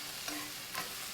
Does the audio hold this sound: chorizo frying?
yes